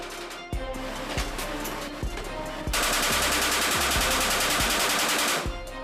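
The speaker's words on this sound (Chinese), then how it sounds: "还用机枪一次打掉一整排的弹链" A machine gun fires off a full ammunition belt, sharp shots in a rapid rhythm that swells into a long, loud, dense burst before stopping.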